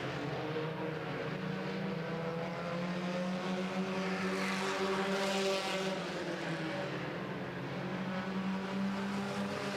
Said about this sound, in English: Things have really closed up for the lead as they come down the front straightaway, almost nose to tail.